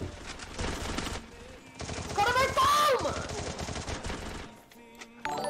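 A 12-gauge shotgun firing in a video game, with loud, bursty gunfire blasts packed close together under excited player chatter.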